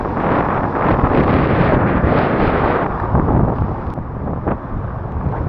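Strong, steady wind buffeting the microphone while fishing, a loud continuous roar with gusty swells and no talking.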